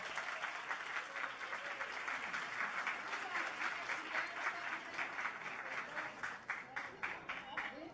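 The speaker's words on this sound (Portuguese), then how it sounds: "E agora eu queria pedir uma salva de palmas para a dona Chiquinha." Audience applause for dona Chiquinha at a community discussion meeting, steady clapping from a small group heard from a distance, thinning toward the end into separate claps.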